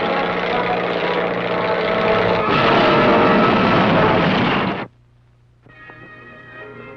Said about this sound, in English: like this overloaded civilian takeoff